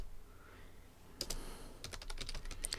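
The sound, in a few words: computer keyboard typing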